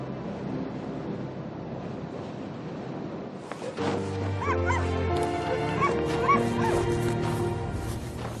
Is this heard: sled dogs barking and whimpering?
yes